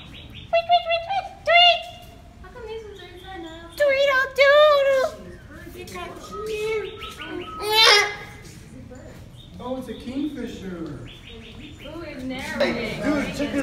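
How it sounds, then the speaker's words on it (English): Many small birds at the Houston Zoo chirp and tweet in quick, bright bursts close by, with occasional cooing, while people talk over them throughout. "There's like a million little birds."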